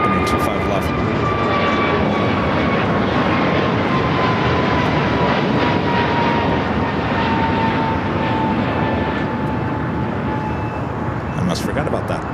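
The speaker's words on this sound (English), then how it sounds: "we got our takeoffs happening 25 left" An airliner takes off from runway 25 Left at LAX, its engine roar a loud, steady, broadband rumble with a faint whine on top, heard continuously from an outdoor spot near the airport, with a voice talking underneath.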